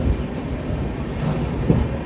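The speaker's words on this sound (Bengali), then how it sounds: "ট্রেন রাইট টাইমে ঢুকলো খড়গপুর" The 18063 Yelahanka AC Express pulls into Kharagpur station, rumbling steadily with a low, continuous roar and faint metallic rattles, a brief clank near the end, with no voices.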